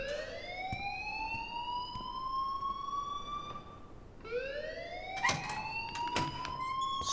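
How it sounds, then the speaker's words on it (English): An alarm rings in the video game Life is Strange, a wailing electronic tone that sweeps upward twice in long rising glides, fairly faint over a low background hiss. "please turn off that alarm since that's your job"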